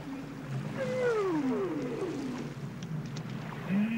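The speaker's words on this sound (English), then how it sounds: "listening to the calls of the whales reverberating through a" Whale calls from deep ocean water, long sweeping tonal moans gliding down in pitch, several overlapping and echoing as they travel through an undersea canyon, steady and fairly loud over a low watery rumble.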